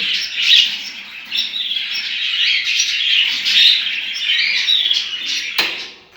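Budgerigars in a home breeding aviary chirp and warble continuously, a bright, busy chatter of several birds close by, with one sharp click near the end and no talking.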